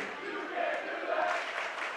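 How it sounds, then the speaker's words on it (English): A high school student section chants and cheers during a Guthrie at Kingfisher boys basketball game, a sustained, blended roar of young voices echoing through the gym for a couple of seconds. "New cheer from the student section."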